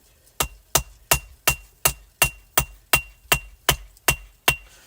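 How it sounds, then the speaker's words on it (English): A hammer strikes a hot knife tang on an anvil at a blacksmith's forge, twelve sharp ringing blows in a steady, even rhythm, loud and close. "So now we're going to flip sides, and we're going to start forging the tang"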